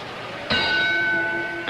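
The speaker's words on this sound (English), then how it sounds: "And there's the bell, round 10." A single struck bell opens round 10 of a Sugar Ray Robinson versus Joey Maxim boxing match, one clear ringing clang that sustains and slowly fades over a constant crowd murmur.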